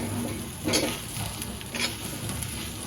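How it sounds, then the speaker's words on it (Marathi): Sukka zunka being sautéed in a pan with coriander added, a continuous soft sizzle with a couple of brief scraping stirs of a spatula against the pan. "पुन्हा आपण मिनिटभरासाठी परतून घेऊया"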